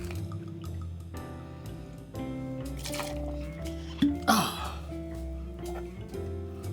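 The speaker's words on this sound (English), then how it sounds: "So 2 ounces of coconut rum." Two ounces of coconut rum are poured into a cocktail, giving a brief liquid splash and trickle partway through, heard over steady background music.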